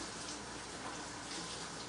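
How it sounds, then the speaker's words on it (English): A whisk is rinsed under running water in a kitchen sink, giving a steady, even splashing hiss that stays faint and close throughout, with no voices. "I have right here my whisk. I just rinse it off."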